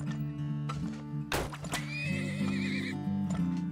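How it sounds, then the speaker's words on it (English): A horse-drawn wagon in the video game Turmoil gives a sharp, nearby neigh and whinny over a steady game music bed. Clip-clopping hooves sound under the music and after the neigh. "Select the horse wagon icon."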